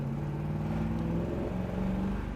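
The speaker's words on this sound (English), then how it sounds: "Car has good acceleration." A 1967 Chevrolet Chevelle SS convertible with a big-block V8 pulls steadily under acceleration, its low engine drone rising gradually beneath constant road and wind noise, heard from inside the car.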